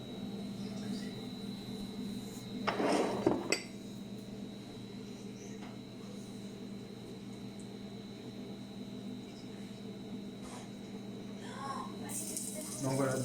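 Marinated chicken pieces fry in hot oil for a crispy finish, giving a steady, soft sizzling hiss throughout, with a brief louder crackling burst near the start and a low hum underneath.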